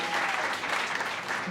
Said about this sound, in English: A round of applause for Taylor, please.